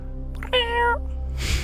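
A person's voice imitates a single drawn-out cat meow, clear and close, followed by a brief breathy noise.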